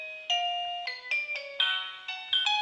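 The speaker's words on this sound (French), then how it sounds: "vous avez une note de musique, ce qui vous permet de sélectionner en fait la mélodie de la sonnerie" An Extel LEVO touchscreen video intercom plays a ringtone melody, a clear electronic chime stepping through about nine tones in a bright, ringing sequence, alone and at moderate volume.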